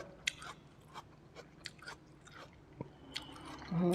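Crunchy bites and chewing of a cold, sweet, crisp snack (snow lotus), several sharp crunches spaced irregularly over a quiet close background, with a louder rustle at the end.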